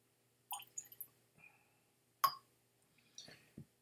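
Water dripped into a glass of Wolfburn Langskip Highland single malt Scotch whisky gives a few soft, quiet drips and plops spread over a few seconds in a hushed room, with no talk.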